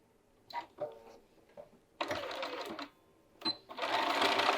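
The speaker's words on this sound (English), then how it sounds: "We're going to sew around using our 1/2 inch seam allowance." A sewing machine stitches a cuff onto a short sleeve slipped over the free arm, with a short back tack at a half-inch seam allowance. Brief bursts of motor whirring come first, then two longer sustained runs of stitching, close and fairly loud.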